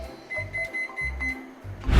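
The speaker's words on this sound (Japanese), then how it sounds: "タイマーが鳴ったので開けてみたいと思います" A kitchen timer rings while tomato oden simmers, sounding as a run of short repeated beeps at an even rhythm, fairly faint, before a louder rustle at the end.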